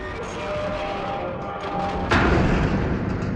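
A single gunshot from the Death Note anime cracks out sharply about two-thirds of the way through, rising above a dense, steady wash of background score and ambience.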